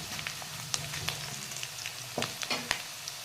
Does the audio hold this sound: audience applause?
no